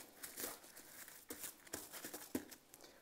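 Crisp crinkling and crackling of plastic cling wrap being crumpled up close, with irregular sharp snaps scattered across a soft rustle.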